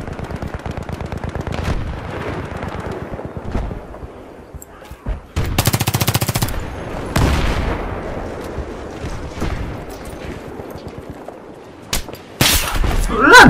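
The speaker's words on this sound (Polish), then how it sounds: "przecież słychać dźwięk strzału" Gunfire in the Battlefield 3 video game: rapid automatic bursts and louder single shots and blasts over about 13 seconds, with someone talking underneath at times.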